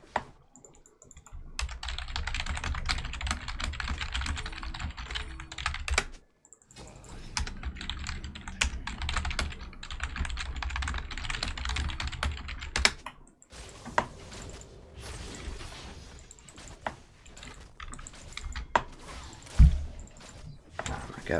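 Rapid, continuous clattering of a computer keyboard, fairly close, runs in bursts with brief pauses during a League of Legends live stream.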